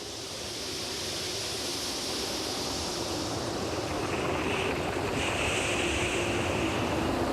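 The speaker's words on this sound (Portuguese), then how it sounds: "A combinação da enorme amplitude do mar com ventos constantes gera montanhas de água." Heavy Southern Ocean waves driven by strong, constant wind, a loud continuous broadband roar and rush that swells slightly and holds steady with no voices.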